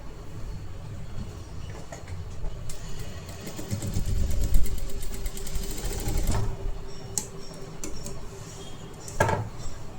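A sewing machine stitches a blouse sleeve in a fast, steady whirring run, joined by light metallic clinks and a brief sharp clatter near the end, close by with no talking.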